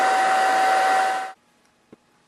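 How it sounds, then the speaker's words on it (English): A hair dryer blowing hot air onto a wall decal on a painted wall, a loud steady whooshing hum that cuts off abruptly after a second and a half, followed by near silence and a faint click. "We can shut the dryer off while we're working."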